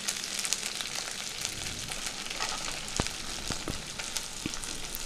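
Boiled potatoes frying in hot oil with ginger and green chilli paste for a singara filling, giving a steady, dense sizzle with occasional louder pops and crackles throughout.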